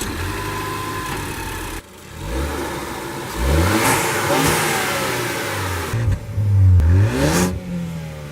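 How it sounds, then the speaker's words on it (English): A Ford Focus ST hot hatch with a large center exhaust pipe idles, then is revved repeatedly in sharp rising blips, loud and close, with short pauses between throttle bursts. "it's a big center exhaust pipe. It sounds pretty good."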